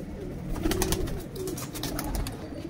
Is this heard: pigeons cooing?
yes